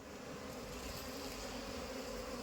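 Aggressive Apis cerana honey bees being moved from a nest into a hive box, their buzzing a steady, dense drone that continues throughout, fairly faint and without voices.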